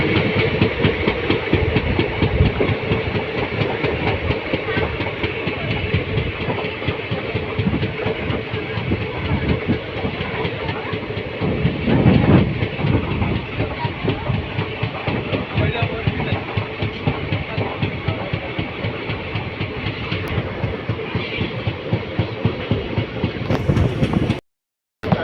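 A train runs through dense forest in the Dooars near Jaldapara, giving a loud, steady rumble with continuous clickety-clack of wheels over rail joints for the whole stretch, close by, before cutting off abruptly at the end.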